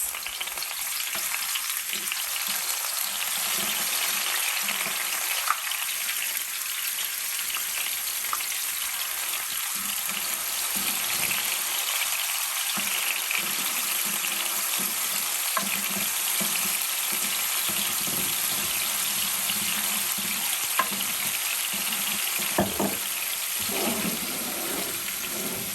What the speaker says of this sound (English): So I've heated up my olive oil, and I'm just going to put the garlic cloves in and leave them in for about 20 seconds.